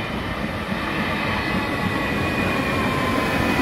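Train rumble on a Sydney City Rail line: a steady, loud, continuous roar of rail noise with no distinct clacks, sounding close and constant throughout.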